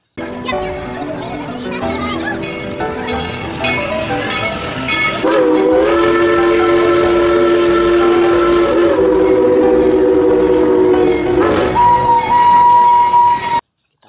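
Toy Thomas train sounds: a rumbling run followed by sustained tonal whistle or horn blasts, loud and close, ending abruptly.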